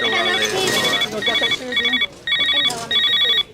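At a family reunion in a house, a telephone rings in a repeated electronic chime pattern, several bursts with brief pauses, loud and close with faint background noise.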